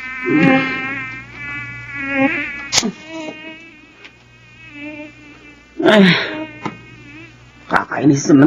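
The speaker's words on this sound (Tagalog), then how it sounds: "Kakainis naman itong mga lamok na to." Mosquitoes buzz loudly and close at night, a whining drone with wavering pitch that swells and fades, broken by a couple of sharp thuds and rustles.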